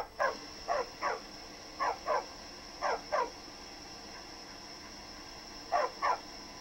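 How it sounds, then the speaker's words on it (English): Short bursts of dog barking in Skyrim, mostly in pairs with gaps between them, over a faint steady background hum with a synthetic, game-like quality. "So, this is what dogs do in Skyrim"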